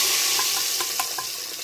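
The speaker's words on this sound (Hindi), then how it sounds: "तड़का जो है इसमें हमने ऐड कर दिया।" Hot oil tempering with cumin (tadka) poured into kulfa dal gives a loud, dense sizzle with a few soft stirring clinks, steadily hissing throughout.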